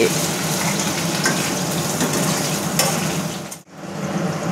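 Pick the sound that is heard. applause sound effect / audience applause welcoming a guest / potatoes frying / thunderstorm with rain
potatoes frying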